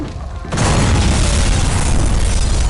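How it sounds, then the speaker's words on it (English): A loud dynamite explosion in a video game, a sudden booming blast that cuts in and then roars on as a sustained rumbling, crackling wall of noise. "Wow, that's some loud-ass dynamite."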